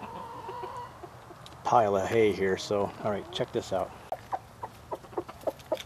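Pheasant rooster and hen give soft clucking calls in their pen, set against someone talking close by throughout.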